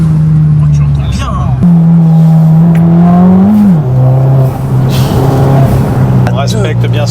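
A Stage 3 Abarth fitted with a Garrett GBC 250 turbo accelerates hard under full load, its engine note climbing through the gears at close range while voices talk over it.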